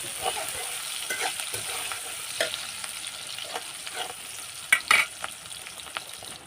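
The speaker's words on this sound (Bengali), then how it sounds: "আমি চুলায় একটি কড়াই বসিয়ে দিয়ে এর মধ্যে কেটে রাখা পেঁয়াজ আর কাঁচামরিচ আর দিয়ে দিচ্ছি পরিমাণ মতো সয়াবিন তেল" Chopped onions and green chilies frying in soybean oil in a wok, with a soft steady sizzle broken by scattered clicks and scrapes of stirring, a couple of louder knocks near the end, no voices.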